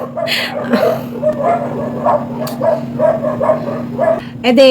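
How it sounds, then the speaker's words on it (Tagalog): Several dogs bark repeatedly in quick bursts, mixed with yips and whines, while a steady hum runs underneath and a person speaks at moments. "Ang ingay ng mga aso."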